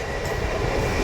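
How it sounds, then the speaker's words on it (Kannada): A train pulls into a station, its steady rumbling rail noise loud and continuous throughout, with no voices over it. "ನೋಡಿ ಟ್ರೈನ್ ಬಂತು"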